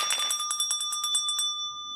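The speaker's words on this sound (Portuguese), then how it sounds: "você que sabe que eu adoro um sininho, né?" A small bell rings rapidly and repeatedly for about a second and a half, its bright tinkling strokes clear and close, then fades into quiet.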